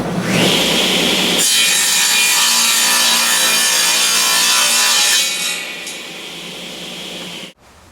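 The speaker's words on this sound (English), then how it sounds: "To cut a 45-degree miter on a table saw, I would use this miter gauge and set it for 45 degrees." A table saw with a multi-purpose blade rips through wood to cut a 45-degree miter, set with a miter gauge. The loud, steady cutting roar lasts about five seconds, then fades as the blade spins down and stops abruptly.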